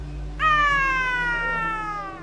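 A human voice imitates a Tonkinese cat yowling with its tail caught in a closing window, one long rising and slowly falling wail held steady for about two seconds over a faint low hum.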